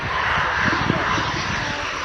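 A delta wing jet flying at the RIAT air show produces a steady, loud, roaring engine drone that holds even throughout, with faint voices underneath.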